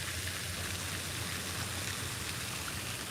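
Light rain out on the water on a dark morning of bass fishing, a steady, dense hiss of drops close by with no voices.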